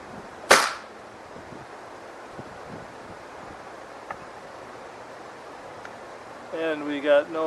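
A single sharp crack from an Air Arms TX-200 air rifle fired at close range, loud and abrupt near the start, followed by a quiet windy outdoor background; a voice speaks briefly near the end.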